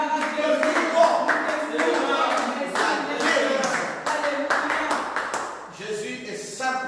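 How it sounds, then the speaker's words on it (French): A church congregation claps and cheers in acclaim of Jesus, with steady applause running throughout under loud overlapping voices and shouts. "J'aimerais que vous l'acclamez."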